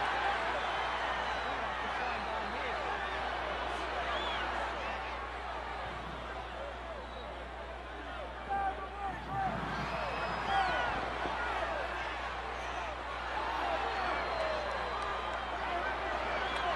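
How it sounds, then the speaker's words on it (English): A wrestling arena crowd roars in a steady, distant wash of cheering and chatter during a World Heavyweight Championship match, with a commentator talking over it. "And listen to that crowd."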